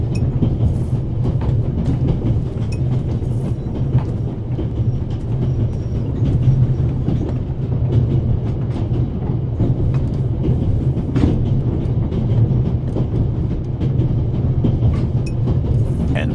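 Onboard train ride ambience in the video game The Raven Remastered: a loud, steady low rumble of a moving train with faint rattles and occasional clicks, continuous throughout with no speech.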